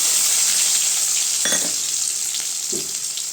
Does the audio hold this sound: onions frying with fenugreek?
yes